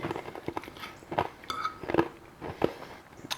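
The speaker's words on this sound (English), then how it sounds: "I hope that crunching isn't too loud for you." Close, irregular crunching and chewing of crisp food, several distinct bites and chews in quick succession with no talking.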